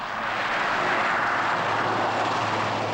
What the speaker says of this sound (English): French helicopters suddenly appeared in Villa